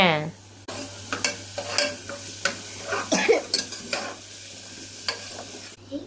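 Onions sauté in oil for dhal rice, a soft continuous sizzle broken by repeated scraping and clinking of a spoon against the pan in an uneven rhythm, close and fairly loud, with no talk.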